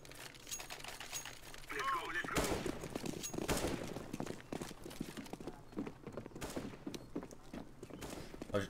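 Gunfire in Counter-Strike: rapid bursts and volleys of shots crackle through the game, mixed with footsteps and other in-game noise.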